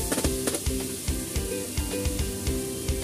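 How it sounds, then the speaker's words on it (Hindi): Mutton nearly cooked through sizzling and frying in a pot, a steady loud hiss with rhythmic stirring scrapes and knocks, close up with no talking. "मटन डालकर एक मिनट तक भून लेंगे"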